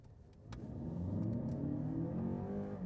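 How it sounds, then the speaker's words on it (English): A 2023 Lexus RX 500h F Sport pulls away hard from a standstill, its engine note rising steadily in pitch as it gains speed, loud and close, with no talk over it. "Then acceleration from standstill."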